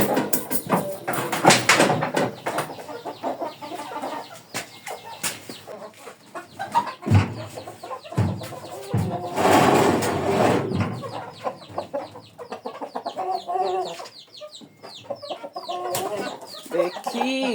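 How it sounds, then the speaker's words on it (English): Chickens at a rural Luo homestead cluck and squawk busily in a continuous, lively chorus. Several birds call close by and others farther off, with flapping and shuffling among them. "we can as well open for the chicken"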